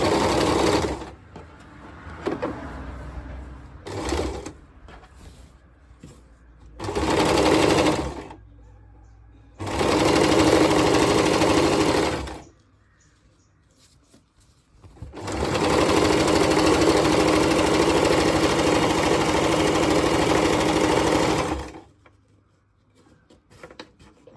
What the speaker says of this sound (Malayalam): രണ്ട് പീസും കൂടി ഒന്നിച്ച് വെച്ചടിക്കണം.